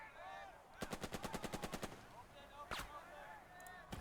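In the Burden of Command video game, a close machine gun rattles off a rapid burst of about a dozen shots, followed by a few scattered single shots against quiet background noise.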